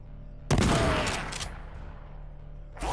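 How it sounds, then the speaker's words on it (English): Shotgun blasts in the video game Skyshine's Bedlam: a loud close boom that rings out and decays over about a second, followed by the start of another shot near the end. "I shotgun him, then he gets two shots on me."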